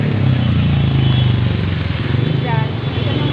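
A motorcycle engine idles close by with a steady low rumble throughout, slightly uneven in pitch, with no talking over it.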